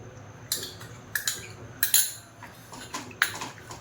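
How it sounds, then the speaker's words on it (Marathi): Homemade cream being stirred into pasta sauce in a pan, with a series of clinks and scrapes from a utensil against the metal, some sharp and close, spaced irregularly over a quiet background. "याला चांगली मिक्स करून घ्यायची."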